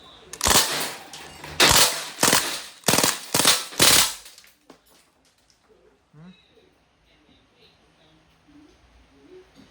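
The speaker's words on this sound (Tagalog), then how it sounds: "Okay, so lapag natin sa full automatic. Okay, yun ang ating target. And firing." A Panther Arms airgun SBR rifle fires on full automatic in several rapid bursts of sharp cracks. A few quiet sounds follow, and someone speaks around the shots.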